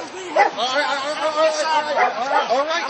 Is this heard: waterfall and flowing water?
no